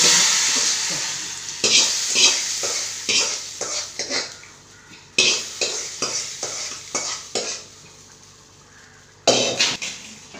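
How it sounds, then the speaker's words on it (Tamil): A spoon stirs pachadi in a pot after hot tempering oil goes in, giving a quick run of sharp scraping, clinking strokes over a soft sizzle, close and fairly loud, with a pause and then a final flurry. "பச்சடியை இப்போ தாளிசம் ஊற்றிருக்கோம்"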